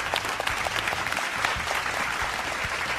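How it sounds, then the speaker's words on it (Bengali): A studio audience claps at a televised cooking competition, producing dense, steady applause that holds from start to finish. "করতালি আমরা দিতেই পারি আপনাদের উদ্দেশ্যে।"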